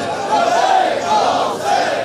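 A large crowd at a Muharram majlis in an imambargah chants the slogan Labbaik ya Hussain in long, swelling waves of voices that rise and fall together without pause.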